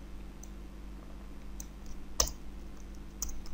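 Sparse, faint keystrokes on a computer keyboard while code is being written, a few soft clicks spread over a few seconds with one sharper tap, and no talk.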